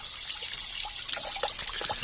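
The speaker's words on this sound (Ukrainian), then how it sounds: "Тече красиво на ресору, вода чиста." Water from a Shifeng 240 mini tractor, running after winter, trickles and drips onto a leaf spring in a steady nearby stream with scattered irregular splashes.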